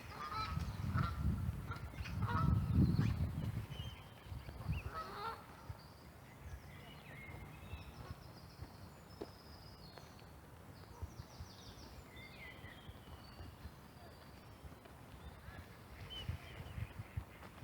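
Geese honk and ducks quack loudly for a few seconds on a park pond, then the pond quiets to faint, scattered calls over low outdoor background.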